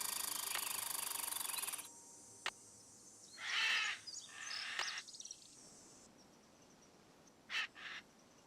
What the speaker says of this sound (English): that was the sound of the hawk